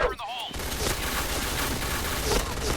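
The White Tiger gun in the shooter Point Blank fires rapidly in a dense, sustained volley of loud shots, with a faint voice heard briefly at the start.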